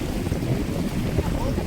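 Strong wind gusts buffet the microphone on a boat safari at Pulampatti near Mettur, a steady, loud roar with water rumbling underneath.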